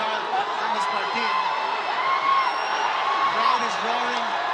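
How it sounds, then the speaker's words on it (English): A boxing crowd roars as a steady bed of noise at a pro fight between Carl James Martin and Aran Dipaen, under an excited commentator's voice with occasional whoops. "Crowd is roaring."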